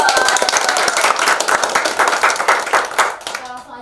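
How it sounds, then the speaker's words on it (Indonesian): Audience applause at a podcast session introducing Indonesia Maju scholarship recipients, a dense burst of many hands clapping near and loud for nearly four seconds, tapering at the end. "Tepuk tangan dulu."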